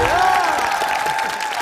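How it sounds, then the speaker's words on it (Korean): Studio audience applause on a Korean Christmas-special variety show, steady and moderately loud over a bright tonal backdrop that sounds like accompanying music, sustained for under two seconds. "두 분께 큰 박수 부탁드립니다"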